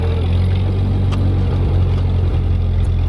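A Ford 8N tractor engine runs while clearing snow, a loud, steady low idle-like chug with a regular firing pulse, occasional faint clanks over it and no talking.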